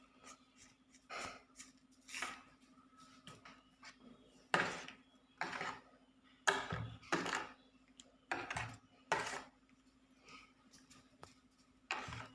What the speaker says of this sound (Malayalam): എന്നിട്ട് നല്ലപോലെ ഇളക്കി യോജിപ്പിക്കുക.